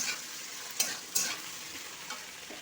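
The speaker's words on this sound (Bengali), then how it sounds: "তো ওইটা ভাজা ভাজা হোক" Food frying in a wok, a faint continuous sizzle with a few sharp stirring scrapes scattered through it.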